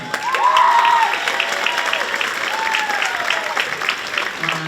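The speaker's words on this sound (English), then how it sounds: "So let's give it up for Jay" An audience at a high school spring band concert breaks into loud, sustained applause that swells early and then holds steady, with scattered whoops over the clapping.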